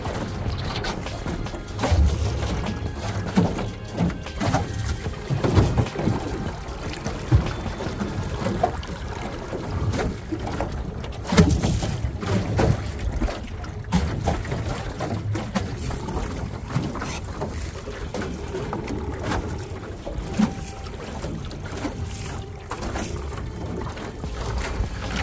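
A Ryobi 40v-powered Minn Kota trolling motor runs at max speed on a 12-foot boat on a windy, choppy day, its faint motor hum buried under heavy wind noise and slapping waves.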